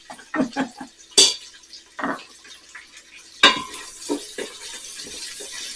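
Vegetables for charro beans fry in a pan, with a soft steady sizzle beneath repeated nearby scrapes and clinks of a utensil stirring against the pan, the knocks coming in irregular bursts.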